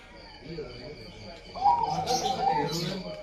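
Birds chirp and coo nearby at a Po Haryanto bus company site with a rural feel, their calls growing louder midway and mixed with soft background voices.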